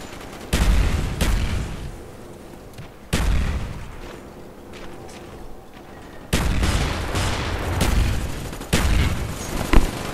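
Several sharp, booming sniper rifle shots in Call of Duty: Black Ops, in separate bursts, each ringing out with a reverberant tail, loud and close with quiet gaps between.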